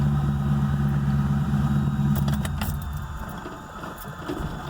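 An LS-swapped Chevrolet S10 engine keeps running on after shutoff, dieseling because it idles too high: a steady, loud low rumble up close in a small garage that fades and roughens over the last seconds, with a few faint clinks.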